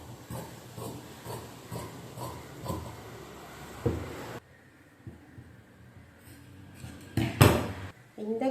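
Scissors cutting the lining cloth of a saree blouse, up close: a run of evenly spaced snips, then a quieter stretch ending in a louder clatter.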